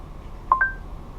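Two short dialing beeps ring out as Android Auto places a phone call in a VW Polo, clear tones over a faint hum of the car's interior, with no talk.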